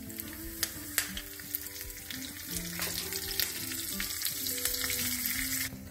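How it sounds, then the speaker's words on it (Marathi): Cumin seeds, green chillies and curry leaves crackle in hot oil for a tempering poured over dhokla, a bright close sizzle with scattered sharp pops and spoon stirs, no talking. "ढोकळ्यावर घालायला आपण फोडणी करतोय, जिरे घालतोय, 2 मिरच्या"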